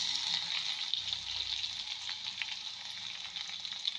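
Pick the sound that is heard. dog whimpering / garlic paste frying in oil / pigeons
garlic paste frying in oil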